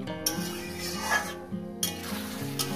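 Gandal leaf paste sautéing in a pan, a soft steady sizzle with occasional stirring scrapes and clinks, close and fairly quiet.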